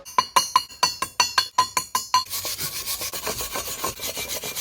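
A chipping hammer knocks weld slag off the steel of an anvil stand in a fast run of bright metallic taps, followed by a rougher scraping clatter.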